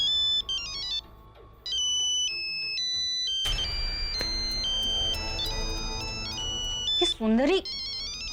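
A phone ringtone plays a bright repeating electronic melody, loud and close, with a voice speaking briefly partway through.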